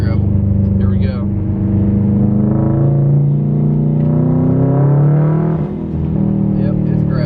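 2017 Subaru STI driving on a gravel back road in Ohio country, heard from inside as a steady loud engine drone with rising and falling revs and tire rumble, with someone talking over it.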